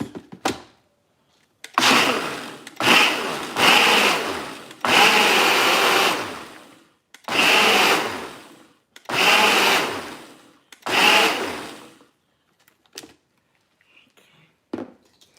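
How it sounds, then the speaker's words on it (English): A kitchen blender blending juice in roughly seven loud, close bursts of a few seconds each, separated by short silences, followed by a couple of faint clicks and a brief final whir. "You put it back in the blender and blend it for a couple of seconds."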